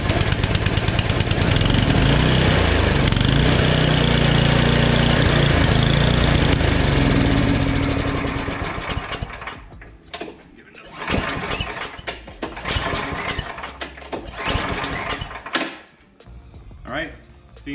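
A gas snowblower engine, choked and started, runs in a loud steady buzzing roar for about eight seconds, then sputters and dies out into uneven bursts and coughs as its fuel runs empty.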